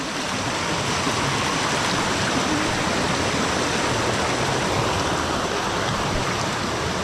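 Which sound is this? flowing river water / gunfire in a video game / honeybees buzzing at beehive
flowing river water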